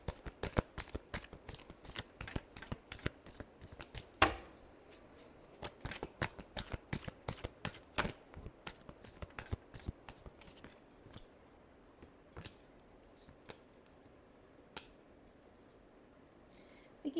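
Tarot cards are shuffled by hand in a long run of crisp riffling flicks and soft slaps, close but quiet, the rhythm thinning toward the end.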